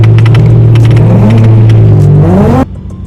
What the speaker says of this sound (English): You want to get some drifting for your vlog?